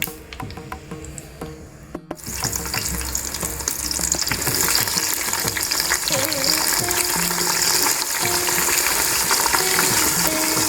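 Eggplant pieces drop into hot oil for vangi bath: softer kitchen noise breaks into a loud, dense, sustained frying hiss with occasional stirring scrapes up close.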